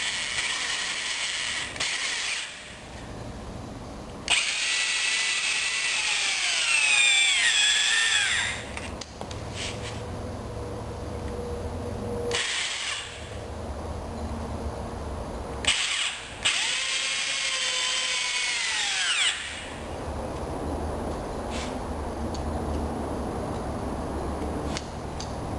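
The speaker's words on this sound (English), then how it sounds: "That just reduces the friction a bit and makes it a little bit easier on the drill to drive these things in." A power drill drives soaped screws into a wooden anvil stand in two long bursts of whirring, ratcheting motor noise, each several seconds long and close up, separated by quieter pauses with no talk.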